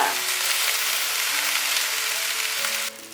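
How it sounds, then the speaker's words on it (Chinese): Washed white rice being stir-fried in a pan for a vegan pumpkin rice dish, a steady close sizzle with light scraping of stirring throughout, no talking. "大略拌炒一下"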